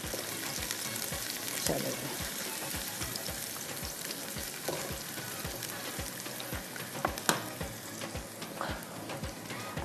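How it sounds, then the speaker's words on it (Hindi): Onions frying in a pan, a dense close sizzle with regular scraping stir strokes throughout and a single brief spoken word. "प्याज को थोड़ा सा हमने इस तरह से फ्राई करना है"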